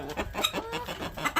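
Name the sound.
chickens clucking in a coop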